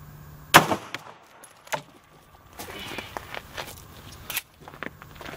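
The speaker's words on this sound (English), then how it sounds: "Into that same piece of gelatin, we'll obviously try to shoot a little bit lower." A single sharp, close gunshot from a 9mm Liberty Civil Defense round fired into ballistic gelatin, followed by shuffling, handling noises and small knocks, with another sharp crack near the end.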